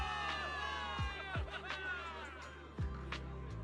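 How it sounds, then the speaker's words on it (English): A crowd of soldiers in a video game cheers for victory, a thin, continuous hubbub of voices with scattered laughter and chatter, fairly faint and distant, punctuated by a few low thumps. "Give it up for yourselves, soldiers! Cheer for victory!"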